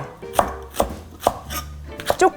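A knife chops green onion for an oyster and tofu stew, five crisp, close, fairly loud cuts against a board in an uneven rhythm, with no talking.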